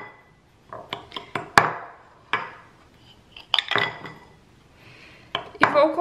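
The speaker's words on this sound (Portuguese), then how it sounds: "Aqui então, eu vou misturar o açúcar com a farinha." Sugar and flour being mixed in a bowl for an apple crumble, a series of clinking spoon-against-bowl knocks and scrapes in irregular bursts, close and fairly loud with quiet gaps between.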